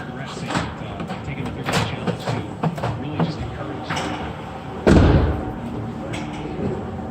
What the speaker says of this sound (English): Let me unlock the doors.